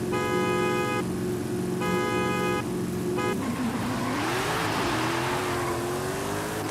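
Car launching hard from a dig race in Forza Horizon 5, the engine holding a loud steady rev with bouncing limiter before surging up through the gears as the car pulls away, close and continuous with no talk.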